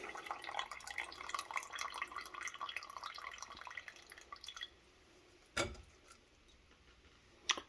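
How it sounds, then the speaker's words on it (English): Whey drips and trickles while homemade cheese curds drain in a pot, first a busy patter of small drops, then sparse single drips and ticks near the end. "Drain some of the whey off."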